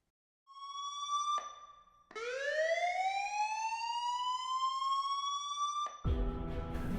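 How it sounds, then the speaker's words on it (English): An emergency squad ambulance siren gives a steady tone, then a rising wail that swells and holds, loud and close, before cutting into a burst of noise. "That sound of the emergency squad happens 34 times per hour, 24/7 in the United States"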